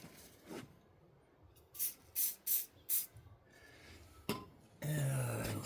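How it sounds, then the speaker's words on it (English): Short hissing bursts of silicone spray applied to the ends of a VW Jetta fuel pump component, four quick close spurts in a row, then a handling clunk and a louder rough rustling noise. "Use a little silicone spray."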